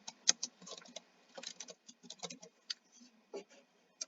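Irregular clicks of typing on a computer keyboard, quiet and close, in short uneven bursts with brief pauses.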